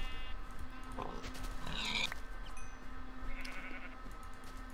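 A Minecraft sheep bleats once or twice, fairly faint, over a low steady game hum with no talk.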